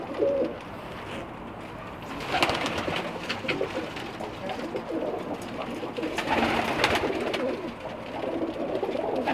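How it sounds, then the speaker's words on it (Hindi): Pigeons of mixed breeds coo in a loft, soft repeated low coos and throaty rolls close by, several birds overlapping in steady bursts with faint chirps behind. "ये एक आपको मैं अपनी पसंद का कबूतर दिखाऊंगा"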